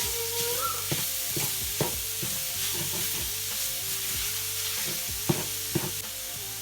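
Jackfruit sizzling in a pan over lowered heat while being stirred: a constant close frying hiss with repeated scraping and knocking strokes of the spoon against the pan, no talking.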